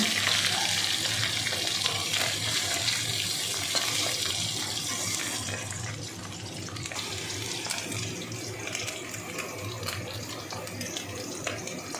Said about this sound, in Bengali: এদিকে পাশের কড়াইতে আমি মাছটা ভাজছি।